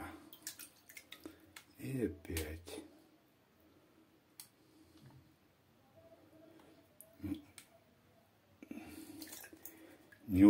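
Water sloshes in short bursts while someone washes Moscow-region clay by hand, panning it for gold. Someone talks between the splashy washing sounds.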